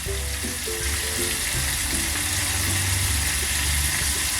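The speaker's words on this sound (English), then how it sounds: "we will fry it in the same way for 2 to 3 minutes or maximum 5 minutes" Popcorn chicken deep frying in hot oil, a steady close sizzle and bubbling that holds evenly throughout with faint low clatter underneath.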